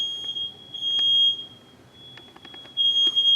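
A smoke alarm sounds during a canned smoke test in a house, a thin high-pitched electronic tone that is steady but faint in places and cuts in and out, with a few soft clicks and handling noises.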